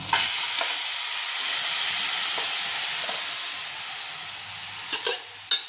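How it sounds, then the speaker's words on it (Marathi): Boiled cowpeas and potato frying in a spiced oil tempering, a steady close sizzle and hiss with a few stirring clinks near the end, no voices. "आता चवळी आणि बटाटा उकडला आहे तो फोडणीला घालून घेऊ"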